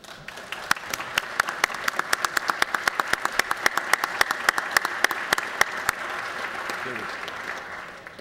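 An audience in the Georgia House chamber applauds to welcome and thank Dr. Olson: a steady, even patter of many hands with sharp individual claps standing out, fairly close, tapering off near the end as a voice begins.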